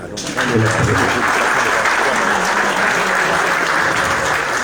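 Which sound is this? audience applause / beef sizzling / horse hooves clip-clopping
audience applause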